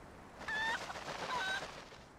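Squawking of the golden cucco chicken from the video game The Legend of Zelda: Twilight Princess: two short, shrill, honking bird calls with a brief gap between them, heard alone over a quiet background.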